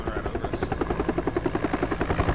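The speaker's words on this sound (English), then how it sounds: "Yeah, it's coming right over us." In PUBG, a helicopter passes right overhead, its loud rotor thumping in fast, even pulses that stay strong and near the whole time.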